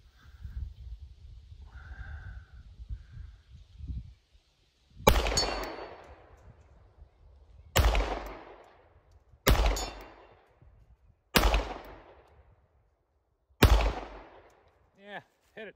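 A CZ 75D PCR pistol fires five loud, sharp shots with long ringing decays at steady intervals, hitting a steel plate at 80 yards, after some brief murmured talk at the start.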